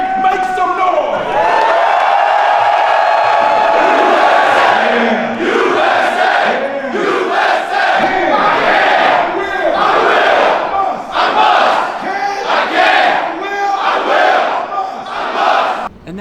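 A conference crowd cheering, whooping and shouting continuously, loud and dense, with voices rising and falling across the full length.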